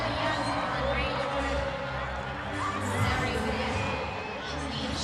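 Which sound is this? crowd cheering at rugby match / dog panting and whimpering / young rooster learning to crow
crowd cheering at rugby match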